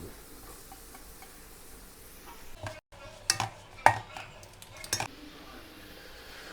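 Crushed garlic and ginger get stirred in a pot for Ambur chicken dum biriyani, with a few quiet scrapes and light clinks of a spoon against metal in the middle stretch over a low kitchen background.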